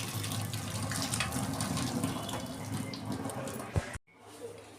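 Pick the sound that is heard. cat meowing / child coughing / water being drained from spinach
water being drained from spinach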